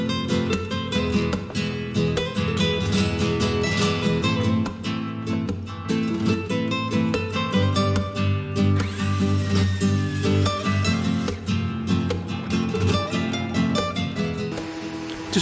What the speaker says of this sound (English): Just putting a light chamfer on here.